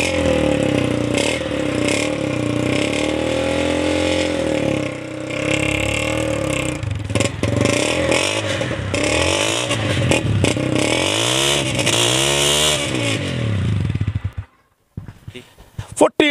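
A used Honda 125cc motorcycle engine idles and revs repeatedly up and down close by, loud and rough, before cutting out near the end.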